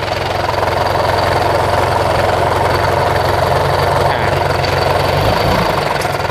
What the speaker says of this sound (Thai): เดินเบาให้อยู่ที่ประมาณ500 รอบ นี่ครับ